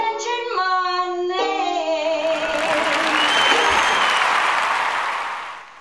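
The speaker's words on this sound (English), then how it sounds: "Thank you for the modest applause" Modest applause from a small audience at a cabaret-style song performance, a soft broadband patter swelling in as sustained sung or held tones fade, then tapering off near the end.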